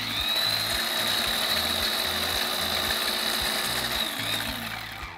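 A blender whirs steadily and loudly, blitzing orange and lime hollandaise as hot butter goes in, with a rhythmic low churning beneath the high motor whine before it winds down.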